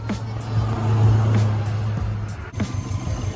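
A Subaru WRX/STI engine with a Mishimoto cold air intake runs with a low rumble and a throaty intake whoosh, rising briefly in the middle, with a few faint clicks over the steady drone.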